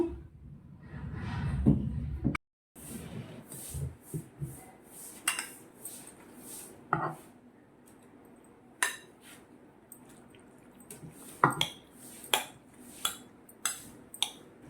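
Mango pickle being mixed with cooled tempering in a metal pot, a spoon knocking and scraping the sides in irregular, close clinks and clatters separated by quiet pauses.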